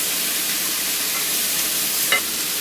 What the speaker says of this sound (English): Stir up the fennel and the onions.